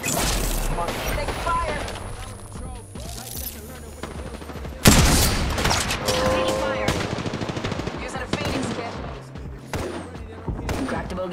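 Video game gunfire on the Caldera map: rapid bursts of automatic fire and shots ring out near and loud, with a sharp blast midway, while players talk over the action.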